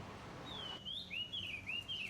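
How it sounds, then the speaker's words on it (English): Caged birds chirp and whistle in short, rising and falling tweets over faint background hiss, the calls coming in a steady run. "The caged birds are a hobby."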